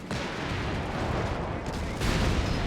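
An Archer tank destroyer fires its gun during a Company of Heroes 3 match, buried in dense, continuous battle noise, with a louder blast swelling in near the end.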